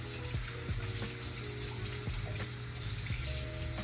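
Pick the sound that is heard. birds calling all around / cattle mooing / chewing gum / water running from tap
water running from tap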